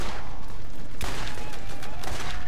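Sustained gunfire in Borderlands, a loud, dense barrage with sharp bursts standing out around the middle and near the end, filling the whole stretch without a break.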